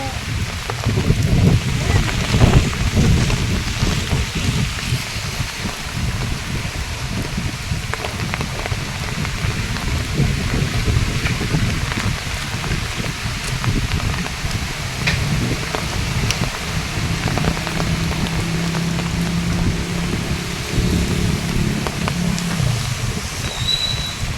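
Heavy typhoon rain pours and wind gusts through many trees in Vigan, Ilocos Sur, a dense steady roar close by, with a few faint voices in the background.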